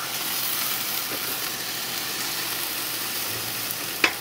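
Flank steak sizzling on a hot grill alongside peppers and onions, a steady close bright hiss and crackle with a brief clatter near the end, no talking.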